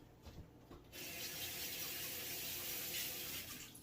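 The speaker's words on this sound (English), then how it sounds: "let me go wash my hands." A kitchen sink tap runs for hand washing, starting after a second of faint handling noise and then pouring as a steady close hiss of water that continues to the end.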